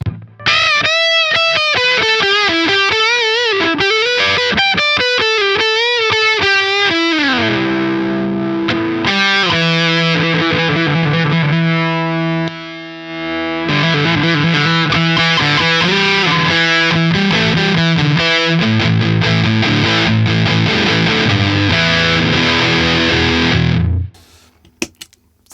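Electric guitar through a Flattley Solaris Pro fuzz pedal with its built-in boost engaged, playing loud, grainy fuzzed bends and sustained chords, then chugging riffs, ending in an abrupt stop.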